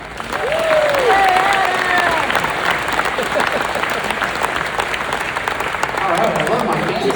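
Applause and some cheering from a crowd at a church campaign event for the chairman, loud and steady at first, then thinning out, with a voice speaking over it.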